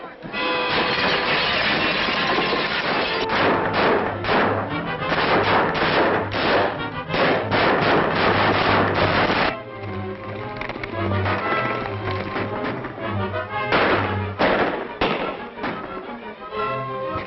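A rapid, loud volley of gunshots fired over the heads of pursuers in the 1936 western The Three Mesquiteers; sharp cracks repeat densely for about nine seconds, then continue more sparsely over a steady low rumble.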